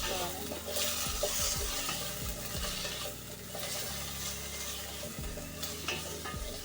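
Potato kurma stirred in a pan with salt and turmeric, a spoon scraping in steady repeated strokes over a continuous sizzle, close and fairly loud, with no talking.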